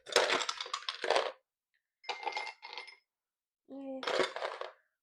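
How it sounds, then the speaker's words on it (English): Ice cubes clatter and crunch into a rocks glass for a tropical amaretto punch in several loud, close bursts separated by silence, the last with a brief voice. "You're going to add ice to it about halfway with this one."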